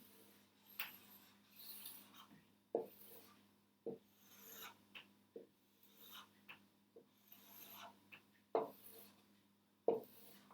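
Pencil or pen scratches across paper in short, quiet strokes, with uneven bursts and pauses as tiny lettering is written by hand, faint and close.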